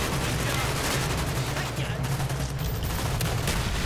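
Sustained automatic gunfire aimed at a rat tunnel in Call of Duty: Black Ops, a dense, loud continuous barrage of shots with battle noise throughout.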